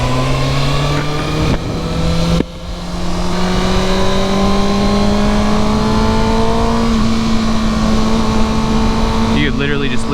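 A 2019 Kawasaki ZX-6R 636 sport motorcycle engine drones steadily while riding on a city road, its pitch rising slowly through the gear with a brief dip around a shift, loud and continuous with wind noise.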